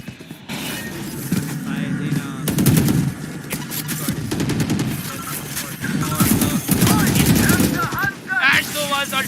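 Gunfire from the tactical shooter game Valorant, with bursts of rapid automatic shots and single cracks in repeated volleys, loud and close, under excited commentary from a caster.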